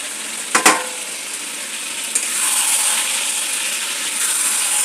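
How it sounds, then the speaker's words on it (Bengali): Chili chicken frying with sauces poured into a hot pan, a loud close sizzle that flares after a couple of brief clanks, then settles into a steady hiss. "দেখো আমি চিলি চিকেন বানাচ্ছি"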